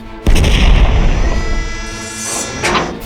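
The battleship Hood firing its main guns at Bismarck: one huge close boom that breaks in suddenly, then a long rumbling roar that slowly fades with a second swell near the end, and no voices.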